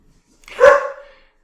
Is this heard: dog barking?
yes